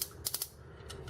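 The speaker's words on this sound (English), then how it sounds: "His knee is on a ratchet." The ratcheting knee joint of a Transformers Blaster toy, giving a quick run of three sharp plastic clicks followed by two fainter ones, close and crisp.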